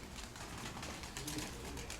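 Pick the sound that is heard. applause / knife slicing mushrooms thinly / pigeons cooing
pigeons cooing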